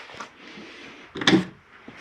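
A shower door in a 2016 Pinnacle 36FBTS RV is snapped shut, giving a single short, fairly loud clack and knock close by, with a faint tap trailing after.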